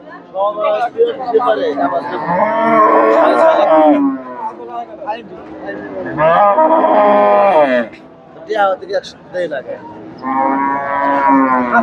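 Friesian cows at a busy cattle market moo in several long, loud calls one after another, with people talking and chattering around them.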